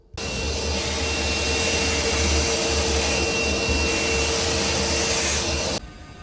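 A wet and dry vacuum running loud and steady as it sucks up spilled beer, with a continuous roaring whine that drops in level near the end.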